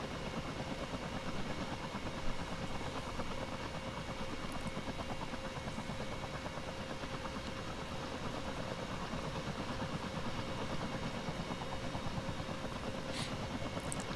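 Twin engines of a CH-47D Chinook helicopter idling in X-Plane 12, a steady, dense low drone with constant whine and vibration throughout, no pauses.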